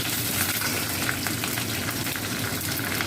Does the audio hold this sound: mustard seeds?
yes